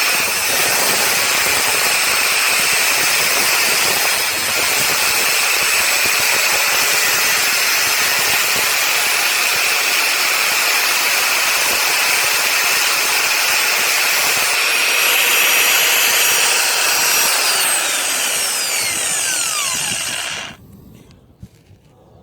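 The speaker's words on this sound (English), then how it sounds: "I'm going to use my angle grinder and just take the very top layer of this pinch bolt off" An angle grinder shaves the top of a Ford Fiesta Mk7 pinch bolt thread in a loud, steady, high-pitched whine that runs almost without a break for about twenty seconds, then cuts off abruptly.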